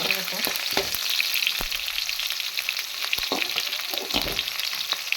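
Onion and garlic sizzle steadily in hot oil for ridge gourd chutney, a dense continuous fry with a few sharper crackles and spatula stirs scattered through.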